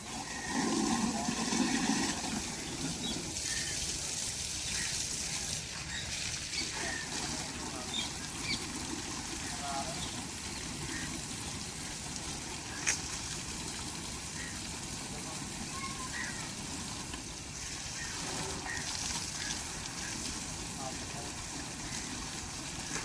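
Water runs steadily while a motorbike tyre is washed, a broad, continuous rushing hiss that lasts throughout with voices talking over it.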